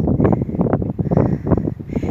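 Wind blowing outdoors on a summer day, a steady broadband rush with gusty swells buffeting the microphone throughout, loud and close.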